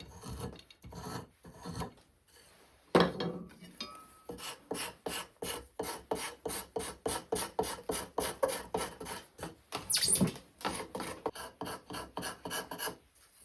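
A hand tool rasping and shaving a wooden foot stool tenon, with sparse scrapes at first, then a long steady series of close, rhythmic filing strokes.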